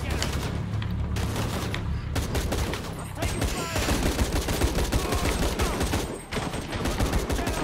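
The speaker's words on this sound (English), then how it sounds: "I'm taking fire." Enemy gunfire in Shadow of the Tomb Raider: sustained loud bursts of automatic weapons and rapid shots, close and dense, continuing almost without pause over several seconds.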